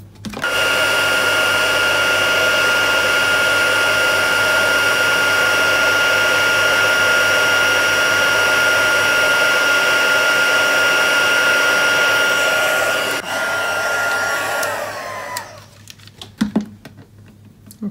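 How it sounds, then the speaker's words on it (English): A heat embossing tool heats a stamped card, a loud, steady close-up blowing whir with a high whine that holds for about thirteen seconds, then shuts off and winds down to quiet with a few handling clicks. "Now bring the heat tool in, and we're just going to heat that up."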